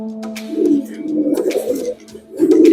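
Pigeons coo in a breeding loft where pairs are courting and nesting. The low, throaty coos come in close bursts, with faint background chatter from other birds.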